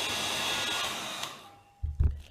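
Hair dryer blowing heat onto Jamberry nail wraps, a loud steady whooshing roar that cuts off after about a second and a half, followed by a few low handling bumps.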